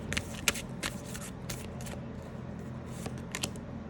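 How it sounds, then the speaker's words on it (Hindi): Tarot cards are shuffled by hand close up, giving a continuous soft riffle of papery flicks and slaps, with a few sharper snaps standing out against a low background hum. "Let's pick one more card."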